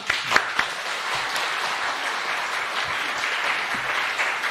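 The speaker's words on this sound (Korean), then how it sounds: "우리 강사님 나오실 때 우리 함께 박수로 또 환영하면 좋겠습니다." Applause from a church congregation welcoming a guest speaker, a film director, to the stage at an evangelism festival: steady, dense clapping across the whole stretch, with a few sharper claps standing out near the start.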